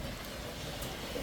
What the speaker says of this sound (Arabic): شوف المطر يا ربي.